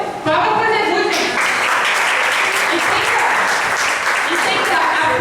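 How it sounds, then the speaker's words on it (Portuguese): Loud, dense congregation applause for Jesus in a church service, starting abruptly and continuing steadily throughout, with voices and cheering mixed into the clapping. "Palmas para Jesus, gente."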